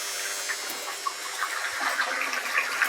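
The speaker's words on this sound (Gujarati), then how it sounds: "અડધું પાણી અહીંયા આવે ને અડધું ઓલી કુંડીમાં જાય" Pumped water gushes loudly and steadily into a cattle drinking trough, a constant splashing rush with no talking.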